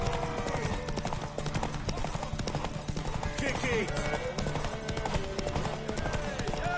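Horse hooves clip-clop steadily in Witcher 3, close and continuous beneath loud overlapping game voices and background music.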